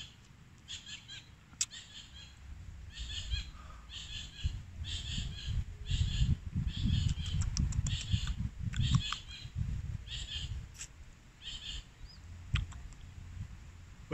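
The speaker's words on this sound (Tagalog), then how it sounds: "Rinig yung ibon, ang ingay yung ibon, no?" Birds call noisily outdoors in a repeated, busy chorus of chirps and cries, steady across the scene over low rumbling background noise and handling sounds, moderately close.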